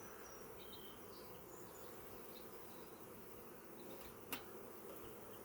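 Honeybees buzzing around an open beehive, a faint steady drone with a single brief tap near the end, no talking.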